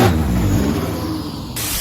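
A turbocharged Subaru GC8 fitted with a GTX2860 turbo idles and pulls off with a steady low engine drone, overlaid by a thin high hiss that drops away just before the end.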